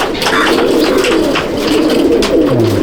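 Close, constant cooing from a flock of same-line racing pigeons in a Mominpur loft fills the air, a thick wash of low warbling calls with no speech.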